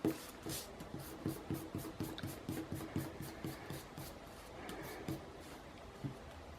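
Rhythmic back-and-forth rubbing of an eraser wiping writing off a classroom board, a steady run of close scrubbing strokes with no talking.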